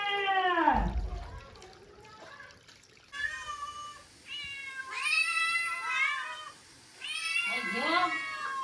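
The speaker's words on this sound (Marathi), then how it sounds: "मांजरा" A cat meows repeatedly at close range, with a low drawn-out cry at first and then several higher, wavering meows in quick succession, loud and clear against a quiet background.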